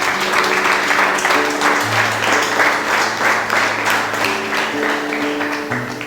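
A church congregation claps and applauds the Lord in sustained, even rhythm, with an organ or keyboard chord held underneath throughout.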